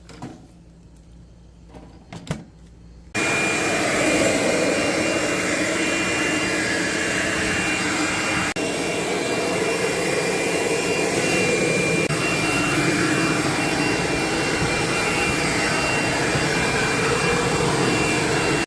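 A leaf blower roars loud and close, clearing leaves off the floor of a motorhome spa tent, starting abruptly after a few quiet seconds and holding a steady, rushing drone to the end.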